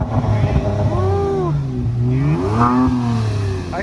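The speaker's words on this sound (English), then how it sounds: "just rev it for me" An F-body Camaro at a car show revs its engine in rising and falling sweeps, loud and close, with people talking nearby.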